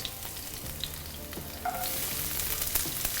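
Garlic and onion frying in a pan for Mexican rice, a steady close sizzle with light stirring scrapes that swells louder partway through as more ingredients go in.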